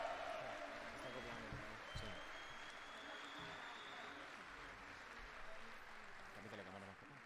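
Audience at the CitizenCon fan convention applauding and cheering for the developers, a steady wash of clapping with crowd noise that carries on at an even level throughout.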